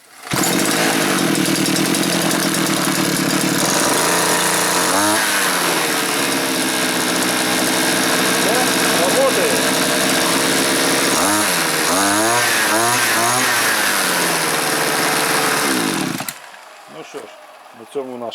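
A petrol brush cutter from Agromash starts and runs at high revs, a loud, steady, buzzing two-stroke whine with a few surges in pitch before it cuts out abruptly near the end, leaving faint handling noise.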